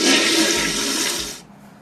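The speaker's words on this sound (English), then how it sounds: "Why is there a toilet flush, Joe?" A toilet flushes in one loud, close rush of water that fades quickly into quiet.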